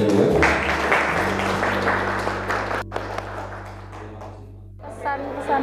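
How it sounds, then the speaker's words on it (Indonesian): An audience of high school students applauds a second guest speaker at a political dialogue event, a steady wash of clapping that fades toward the end while a low hum continues beneath. "Aplaus untuk narasumber kita yang kedua."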